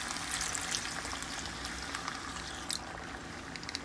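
Taco pasta simmers and sizzles steadily in a skillet after water is poured in, a continuous close frying hiss with a few small pops and clinks, no talking.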